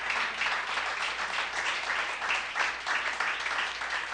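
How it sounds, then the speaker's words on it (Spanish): A church congregation gives a strong round of applause during a Spanish-language sermon, with dense, steady clapping filling the whole stretch at moderate loudness and no talk over it. "Dale un fuerte aplauso a Cristo, hermano."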